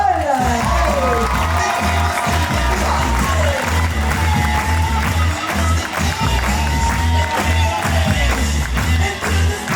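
An audience at Domaine de Félix applauds and cheers for its entertainment manager at a prom-themed show, dense clapping running throughout with voices and shouts mixed in.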